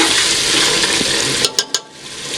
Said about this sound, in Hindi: आपने इस तरीके से चम्मच जो है वो हिलाते रहना है ताकि सालन जो है वो नीचे ना लग जाए।